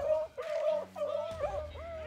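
Rabbit-hunting hounds bay on a fresh scent, giving a few drawn-out, howling barks in quick succession, close by and fairly loud, as the chase begins.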